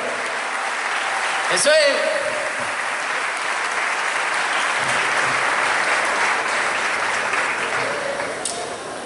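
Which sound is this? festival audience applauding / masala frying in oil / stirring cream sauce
festival audience applauding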